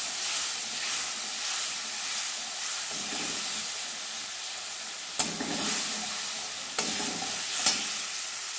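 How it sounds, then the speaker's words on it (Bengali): Cumin, coriander, turmeric and chilli powder fry in a pan under a constant close hiss and sizzle, with a few sharp scrapes of a spatula stirring, and no voices. "মশলাটা আমি কষিয়ে নেব।"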